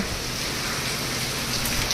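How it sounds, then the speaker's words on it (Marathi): Heavy rain pours steadily, a dense, loud hiss of drops drumming on surfaces, unbroken and close, with no talking. "चांगलाच पाऊस चालू आहे आता"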